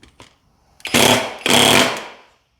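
A Skil auto hammer drives a small finishing nail in two loud, close, rapid hammering bursts, each lasting roughly half a second, after a couple of faint clicks and with no talk.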